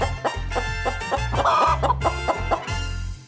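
A chicken in the video game Guacamelee clucks in a quick run of about a dozen short, choppy clucks, close and clear with no talking.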